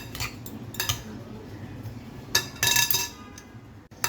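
A utensil clinks and scrapes against a dish while a salad dressed with vinegar is stirred and tossed, giving irregular close metallic taps with a louder cluster of clinks near the end.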